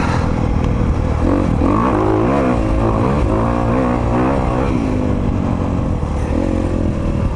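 A Honda CRF250RX dirt bike engine runs loud and steady close by, its pitch climbing, then dropping and rising again as it shifts up a gear mid-ride.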